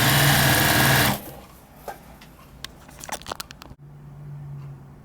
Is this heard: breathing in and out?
no